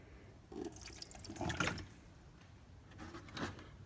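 Water from a gallon jug pours through the front body drain of a Porsche Boxster and splashes onto a shop floor in a few soft, quiet bursts of dripping and trickling, with no talk.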